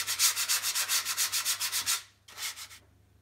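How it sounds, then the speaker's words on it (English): Rhythmic hand sanding of painted wooden drawer dividers, a steady back-and-forth rasp of about a dozen strokes, a short pause, then a few more strokes, close and fairly loud. "just get a little bit of sanding all the way around"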